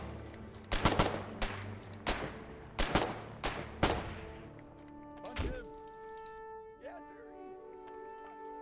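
Gunfire in the war game Foxhole, a string of loud close shots in uneven bursts followed by fainter distant reports, with players talking over it.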